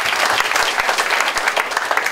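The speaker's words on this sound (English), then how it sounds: "We give him a round of applause." A forum audience gives a round of applause for a legal scholar, loud dense clapping throughout with no voices over it.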